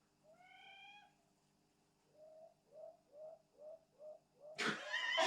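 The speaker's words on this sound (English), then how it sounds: "Some bird out there." Bird calling outside a garage: a rising tonal note, then a series of five or six soft, evenly spaced cooing hoots, ending in a louder broadband burst; fairly faint, with no talk.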